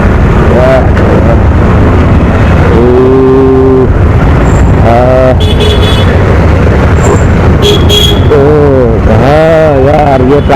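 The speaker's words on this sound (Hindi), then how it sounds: "ये ट्रैफिक ही ट्रैफिक है।" Dense road traffic fills a town street in Diphu, Karbi Anglong, Assam, during Diwali: a loud, continuous engine roar with repeated vehicle horns blaring close by, some in long wavering tones, while people talk beneath.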